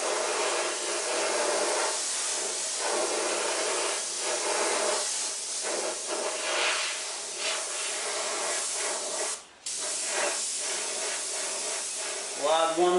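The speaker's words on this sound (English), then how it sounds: "I'm actually going to just spray my white right on top of it" Airbrush spraying white paint onto a fender, a steady close hiss running almost unbroken with one brief pause and a short rattling sound near the end.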